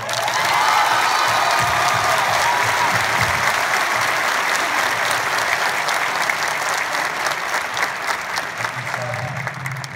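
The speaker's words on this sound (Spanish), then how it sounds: "Un aplauso, por favor." A comedy show audience claps enthusiastically, a dense sustained wash of applause with some faint cheers mixed in.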